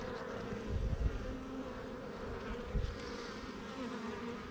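Honeybees from a hive drone in a steady close buzz, swelling briefly twice as individual bees pass near, with no talking.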